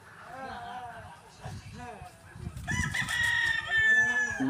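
A rooster at a gamefowl farm crows twice, loud and close, with other fowl clucking in the background while someone talks nearby.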